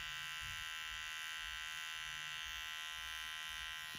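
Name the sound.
electric hair clippers cutting a child's hair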